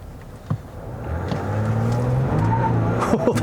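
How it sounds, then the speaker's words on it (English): A 2020 Ram 1500 EcoDiesel half-ton pickup drives with a low, rising diesel engine drone and a traditional clatter, loud and close, with a brief knock near the start and no talking. "this one does have a more traditional diesel clatter"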